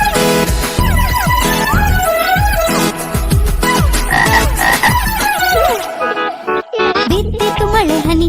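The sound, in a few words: frog croaking in a children's rain song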